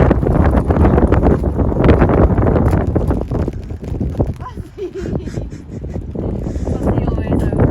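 Strong wind roars and buffets the microphone in a steady, loud rumble, with muffled voices faintly underneath.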